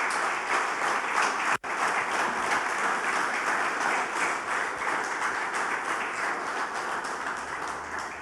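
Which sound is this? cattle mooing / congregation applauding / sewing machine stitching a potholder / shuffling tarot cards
congregation applauding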